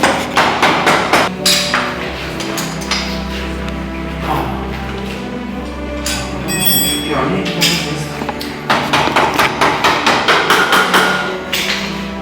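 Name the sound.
hammer blows while assembling a motorcycle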